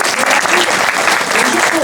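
An audience at a public municipal campaign meeting in Bordeaux claps in a dense, steady burst of applause, close and loud, with voices mixed in.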